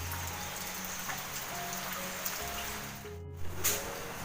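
Rain falling steadily outside a home, a soft continuous patter with a few faint thumps and brief shifts near the end.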